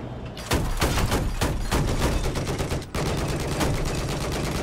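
A hostile machine gun fires in a video game battle on a flooded map, loud rapid close bursts of automatic fire running almost continuously after a short quiet start, with a brief gap partway through.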